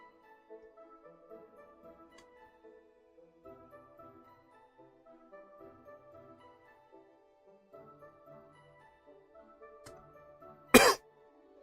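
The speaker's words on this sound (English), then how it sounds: "If I cough, I do apologize." One sharp, loud cough bursts out near the end over quiet background music with soft tonal notes.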